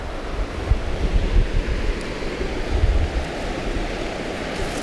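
Broad, steady rush of water from a big creek during spring trout fishing, a continuous close wash with some gusty low rumble of wind on the microphone and no talking.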